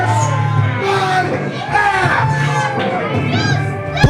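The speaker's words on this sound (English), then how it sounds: "And the crowd here is upset." An upset crowd at an independent wrestling show shouts, yells and whoops in a dense, continuous roar, with voices rising over one another close by.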